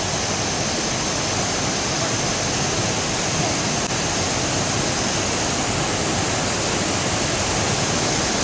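A stream rushes steadily in Shivapuri National Park, a loud, unbroken wash of flowing water with no pauses.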